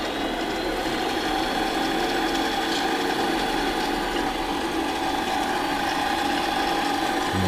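A mini lathe turns a metal shaft at increased speed, giving a steady, continuous mechanical whir with a ratcheting gear chatter that holds at an even, fairly loud level throughout, with no talking.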